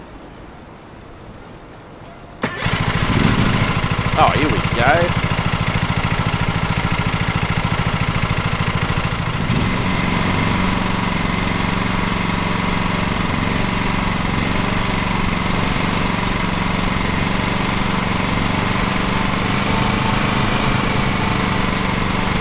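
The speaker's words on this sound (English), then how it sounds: "Hold X to start the vehicle's engine." A riding lawn mower engine in Lawn Mowing Simulator cranks over and catches, then settles into a steady, loud idle drone that runs on alone, with a brief spoken remark at the start.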